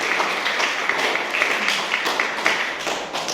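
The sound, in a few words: applause for Nabila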